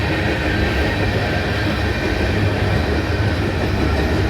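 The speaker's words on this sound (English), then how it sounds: "It's a southbound train, but you can tell by the sun that this train's going west." Southbound freight train running from Greenwood toward Atlanta rolls past close by, a dense continuous roar of wheels and cars on the rails with faint clickety-clack, steady and loud throughout.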